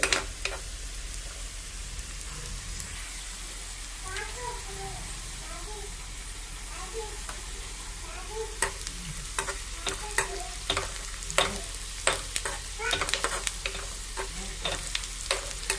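Onions and turmeric sizzle steadily in a pan while a utensil scrapes and stirs, the clatter growing busier and louder toward the end.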